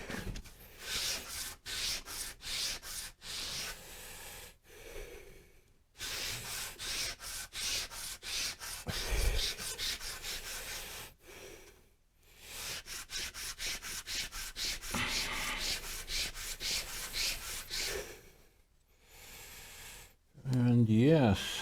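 Wood pieces are hand-sanded with 120 grit sandpaper in rapid back-and-forth strokes, close and steady, broken by a few brief pauses. A voice talks over parts of the sanding.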